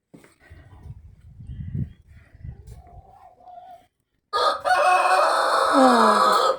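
A rooster crows loudly and close by after a stretch of quieter clucking and rustling.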